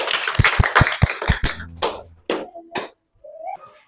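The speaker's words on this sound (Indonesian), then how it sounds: "Tepuk tangan untuk temannya." A classroom claps for a student with a run of quick, evenly spaced claps that fade out, followed by a few spoken voices.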